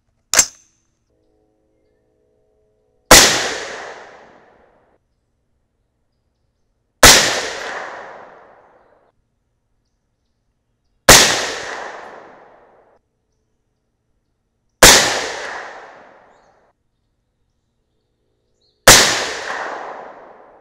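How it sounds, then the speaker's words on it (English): Five loud, sharp .308 Winchester rifle shots firing 165-grain Sierra bullets ring out at spaced intervals of about four seconds, each crack trailing off in a short echoing decay, after a faint initial click. "So those five shots felt great."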